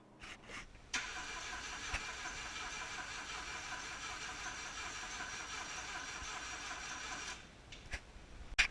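OMC Mustang 345 skid steer engine cranking after fuel is poured into the carburetor, a sustained mechanical whir of the starter turning over for several seconds before cutting off, with a few clicks at each end.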